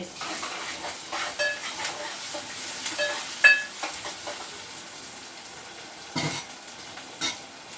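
Fresh mint dropped into hot oil as tempering for an egg pulusu sizzles and crackles up close, with stirring scrapes and light metallic clinks of a spoon against the pan in bursts.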